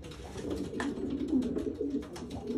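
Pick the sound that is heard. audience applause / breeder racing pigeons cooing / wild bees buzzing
breeder racing pigeons cooing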